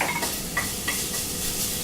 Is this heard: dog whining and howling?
no